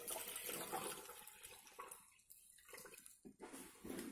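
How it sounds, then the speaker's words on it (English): Running water pours steadily into a container during a sodium hydroxide and oxalic acid titration setup, a faint continuous splashing rush that thins and pauses briefly near the end. "fill that with water"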